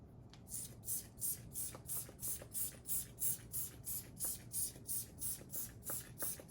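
Rapid, even bursts of hissing spray repeat about twice a second, a fine perfume mist pumped from a nozzle, close and fairly soft.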